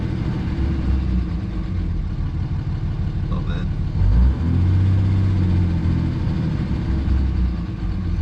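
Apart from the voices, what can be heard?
diesel engine revving after Seafoam treatment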